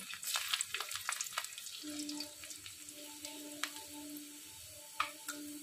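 Chopped garlic sizzles in hot frying oil for a Bengali-style tilapia curry, a steady crackling hiss with scattered pops and faint clinks, no talk.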